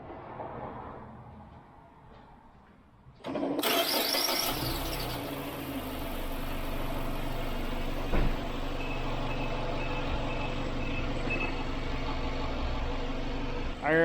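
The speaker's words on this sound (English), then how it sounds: "So right now I can go ahead and turn on the car." A Mazda with a Skyactiv 2.5L engine cranks and catches after a quiet stretch, then settles into a steady, close idle with a faint high whine and one brief knock.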